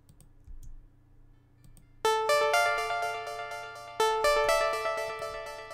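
A Roland Juno analog synthesizer plays bright, bell-like chords in a synthwave style, each struck note decaying, with a strong new attack about every two seconds after a quiet start.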